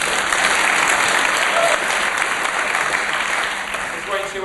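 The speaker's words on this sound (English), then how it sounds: "Give them a round of applause." Conference keynote audience claps in a dense, steady round of applause that holds loud throughout and tapers slightly at the end.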